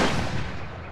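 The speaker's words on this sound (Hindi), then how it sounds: "अब वो उसके डैड पर गोली चला देती है" A single sharp gunshot in a Hindi-dubbed old Hollywood movie, close and loud, with a short rumbling tail that fades within a second.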